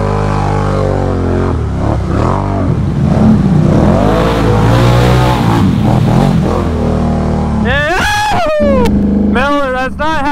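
A stock 2022 Honda ATV engine drones and revs hard while pushing through deep water, loud and close with wavering pitch, and a person talks over it near the end.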